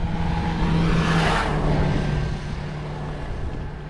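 A motorcycle passes close by on an outdoor road, its engine noise rising to a peak and then fading away as it moves off, heard alone without talk.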